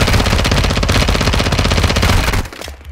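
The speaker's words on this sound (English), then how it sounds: "Mesin gun." Rapid machine gun fire in Call of Duty Warzone 2.0's DMZ mode: a loud, unbroken burst of automatic shots lasting over two seconds before stopping abruptly, leaving a low rumble.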